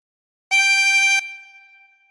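A single harmonica note, blown on hole 6, sounds clearly and alone: a bright reedy tone held for under a second, then left to ring faintly as it fades.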